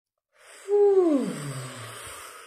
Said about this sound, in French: laissez-moi une seconde, je vais respirer.